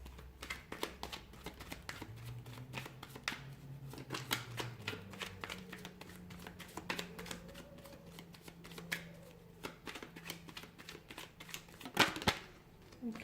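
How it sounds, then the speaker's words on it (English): Continuous riffling and flicking of a deck of tarot cards being shuffled close up, steady and busy, with a sharper slap near the end. "Let's go ahead, give the cards a shuffle"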